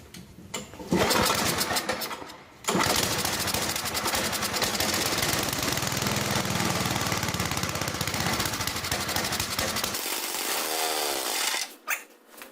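A Toro 724 snowblower engine catches after a short pull and runs loud and rough at close range, with a brief dip before roaring on. It sputters out near the end.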